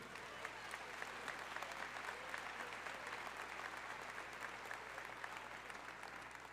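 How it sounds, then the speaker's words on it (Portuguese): A church congregation breaks into continuous applause during a sermon, a dense, even clapping texture with a faint low hum beneath it, rather quiet overall. "Pode aplaudir o Senhor."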